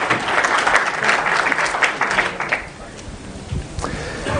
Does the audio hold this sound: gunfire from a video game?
no